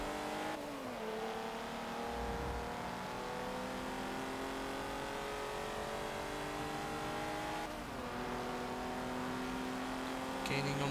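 An Italian inline-six race car engine in Forza Motorsport 7 drones steadily and loudly, its pitch climbing through gears with brief shift dips, under faint speech.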